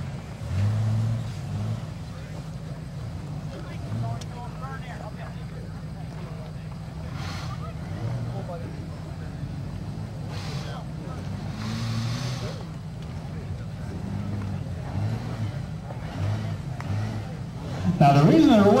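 Off-road vehicle engine revving low and steady on a competition course as it turns around, the rumble running throughout with a louder burst near the end, under wind noise and a voice talking.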